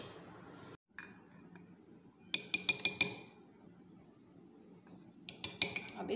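A spoon clinks against a bowl while sugar is stirred into half a cup of milk for custard. Two bursts of quick, sharp taps come close and clear over a low background hum.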